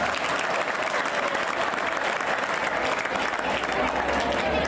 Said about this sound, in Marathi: तुम्ही एकदा स्वतःसाठी टाळ्या वाजवा